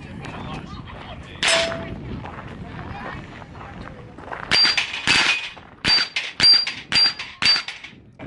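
Canik TP9 SFx pistol fired at steel targets on an evening outdoor range, a quick string of sharp shots with ringing metallic pings, preceded by a single shot amid background talk.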